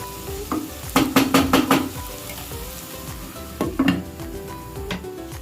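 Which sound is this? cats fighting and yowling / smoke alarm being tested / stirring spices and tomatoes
stirring spices and tomatoes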